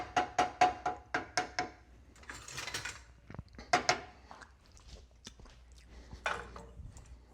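Whisk clacking rapidly against a pan while stirring butter cooked down to a caramel, a quick series of close metallic taps followed by looser scraping and irregular knocks.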